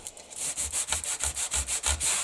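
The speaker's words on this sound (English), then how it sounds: "This is a sanding block, so I'm just taking some of it off to soften that line" Brisk rhythmic scraping as a sanding block rubs back and forth over a gesso-coated journal page, about ten quick, even strokes up close.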